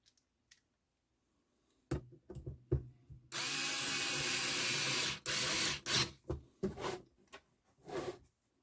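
A screwdriver works the ground screw on a Sansui P-D20 turntable during an overhaul. There are close, scattered clicks and scrapes, then a loud continuous whirring burst of about two seconds, followed by more short taps in a quiet room.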